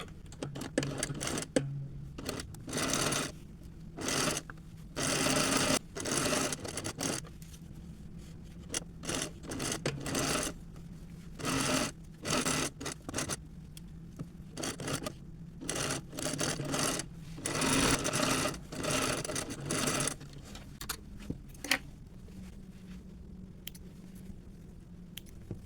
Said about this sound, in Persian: با یک پهنای دوخت پایه چرخ میدوزیم.